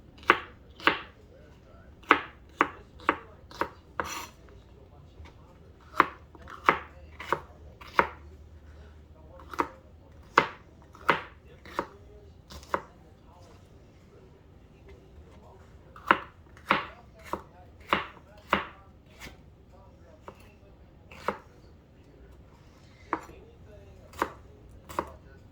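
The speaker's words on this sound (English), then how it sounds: "And I'm just gonna run the knife through it." Kitchen knife chopping onion on a cutting board: about thirty sharp, close knocks in quick bursts with short pauses, steady and loud against a quiet room.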